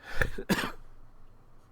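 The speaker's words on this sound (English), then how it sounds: "When I start coughing, oh my god, it hurts so bad" Two harsh coughs in quick succession, close and loud, followed by quiet room noise.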